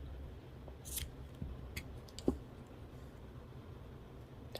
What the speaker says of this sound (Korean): 실 적당히 잘라줍니다